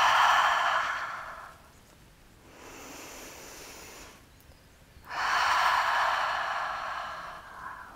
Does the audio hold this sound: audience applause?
no